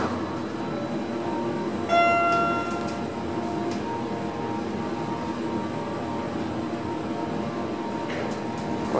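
A Schindler hydraulic elevator at a Crate & Barrel store in Arlington, Virginia runs with a steady low hum, and a short bright chime rings near the start over the continuous drone.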